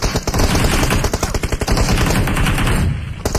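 Rapid automatic gunfire from a multiplayer shooter video game, dense repeated bursts of shots rattling loudly almost throughout, with only a brief thinning near the end.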